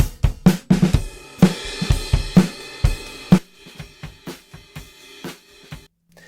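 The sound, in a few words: drum kit recorded through a smartphone microphone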